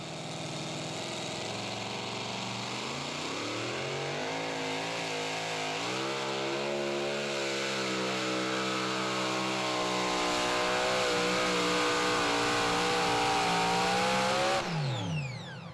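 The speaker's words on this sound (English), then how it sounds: "Here comes Tony Tatum and the Parts City Auto Parts truck." A 2WD pulling truck engine in a tractor-pulling competition finals at Saluda, South Carolina, roaring at high revs and climbing steadily in pitch, very loud and sustained, then cutting off abruptly near the end.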